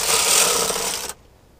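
A knitting machine carriage sweeping across a row of needles, a steady close rasping rush lasting about a second before cutting off abruptly into near silence.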